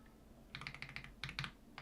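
Rapid keystrokes on a computer keyboard, a quick uneven run of light clicks followed by a second short burst, close and fairly quiet, lagging on a Mac under heavy memory load.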